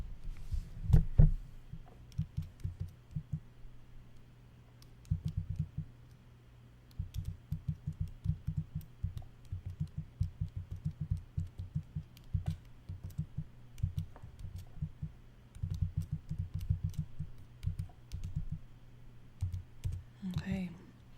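Typing on a computer keyboard during a live statistics session, with dense bursts of clicks and thumps in irregular runs broken by short pauses, fairly close and steady.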